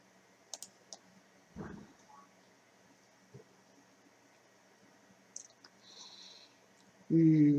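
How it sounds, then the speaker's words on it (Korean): Several faint, isolated clicks of a computer mouse, spaced irregularly over a quiet background, with a voice starting to speak at the very end. "클릭"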